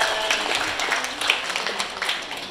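Audience applause at a memorial ceremony, a steady dense patter of many hands clapping together, moderately loud and continuous throughout.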